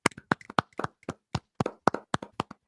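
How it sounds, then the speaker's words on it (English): A small group clapping hands in a quick, uneven run of sharp claps for a birthday, close and fairly loud, with no talking. "We clap."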